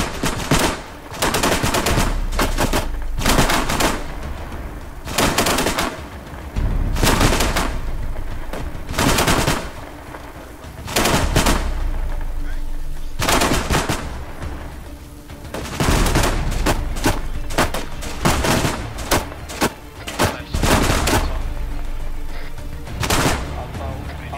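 Automatic and rifle fire in the Arma video game comes in repeated loud bursts and volleys, separated by brief pauses.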